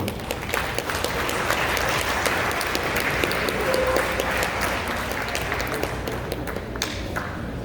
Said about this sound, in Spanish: Solicito que recibamos con un fuerte aplauso al doctor Gerber Oliva.